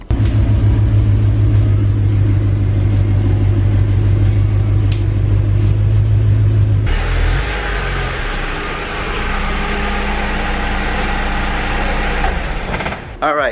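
A Lexus car's engine rumbles loudly and steadily up close, then shifts to a lighter, more open road and outdoor sound as it is driven outside, with sharp clicks along the way and no talk over it.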